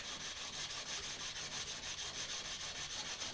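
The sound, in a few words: crooked knife blade sanded on sandpaper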